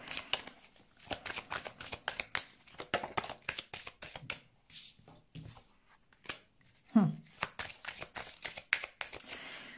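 Tarot cards shuffled by hand in a quiet room, a long run of quick crisp riffling flicks and soft taps, close and fairly faint, with a person speaking in between.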